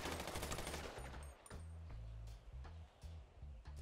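Shotgun fire in the video game RMRP: a dense burst of sharp shots at the start, followed by several spaced, heavy booming reports with low-end thumps, fairly faint overall and with no talk.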